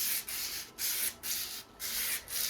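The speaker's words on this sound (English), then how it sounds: "It's the sandpaper sound like this." Sandpaper rubs back and forth across a firearm in a steady rhythm of about five strokes, each a close, loud, raspy scrape separated by brief pauses, with no talk.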